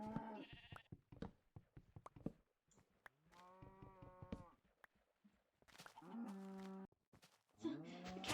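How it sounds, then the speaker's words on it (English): Minecraft cows moo in the game, several drawn-out tonal bleating moos spaced a few seconds apart among clicks and short game noises, quiet and close. "The cow sounds so strange though."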